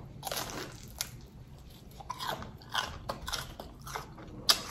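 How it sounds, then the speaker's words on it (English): Crisp crunching bites and chewing on a homemade fried egg roll dipped in sweet and sour sauce, several sharp close crunches spread through the stretch with no talking. "Y'all hear that crunch?"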